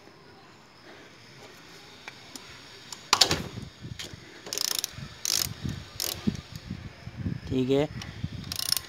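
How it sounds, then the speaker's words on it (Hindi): A ratchet wrench with a 17 mm socket works loose a bolt near the gear pedal of a Bajaj Discover DTS-i 100 motorcycle, giving close clicking pawl bursts and metallic handling sounds, with a brief spoken word. "ये अपना रैचेट, ये 17 नंबर का सॉकेट।"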